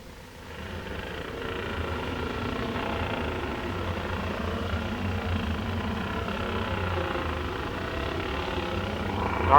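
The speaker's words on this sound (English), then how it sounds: "Now you can probably hear the machines as they approach the starting line, the starting grid." Racing motorcycles idle and rev as they roll up to the starting grid at the Southern 100 on the Billown circuit, a steady distant engine drone that holds throughout and swells slightly at the end.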